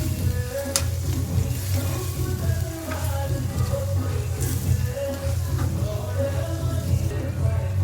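Chicken curry fries in a pan with a steady, dense sizzle and crackle, with occasional sharp pops and a low background hum running throughout.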